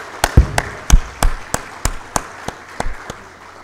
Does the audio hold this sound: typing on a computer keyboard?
no